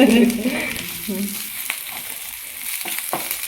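Prawns and garlic fry and are stirred in a pan, giving a close, crackling sizzle with scraping stirs, while a voice talks briefly at the start.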